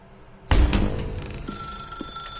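A telephone rings in The Stanley Parable Ultra Deluxe: a sudden loud bell burst that then settles into a sustained ringing tone, heard alone without talk.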